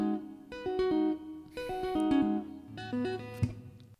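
Tapped electric guitar plays the simple first treble part of a riff, a few clean ringing note groups repeated in bursts with short gaps, moderately loud and alone with no voices.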